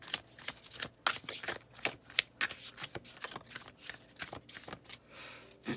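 Tarot cards are shuffled by hand in quick, repeated riffling bursts, close and crisp, with brief pauses between shuffles.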